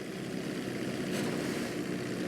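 Steady propeller plane engine drone in GTA V during an emergency landing on a bridge, a continuous near hum with a broad hiss that holds level throughout.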